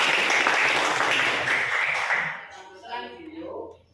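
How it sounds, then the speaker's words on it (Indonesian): A class of students applauds after a lesson on Islamic cultural history, a dense burst of clapping that fades out over the second half as voices murmur underneath. "Ya, kasih tepuk tangan juga."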